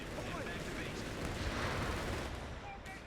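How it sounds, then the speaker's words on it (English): A grenade explodes in the Company of Heroes 3 strategy game, a faint, dense rumble of blast and battle noise that stays low and distant throughout with no clear single peak. "Grenade is thrown."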